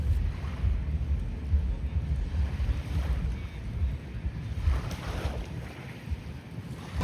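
Cool sea wind blows at Pattaya beach in Thailand, a constant rumbling gust across the microphone over the low wash of waves, with no clear voices.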